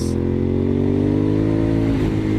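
A Honda VTR1000SP1 V-twin motorcycle engine runs at low revs with a rough, jerky, uneven throb, loud and close, the pitch rising slightly as it strains.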